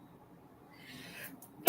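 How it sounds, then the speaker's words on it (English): A single sudden, loud sneeze bursts out at the very end after a stretch of near silence with faint background murmur. "Oh my God, I'm gonna sneeze."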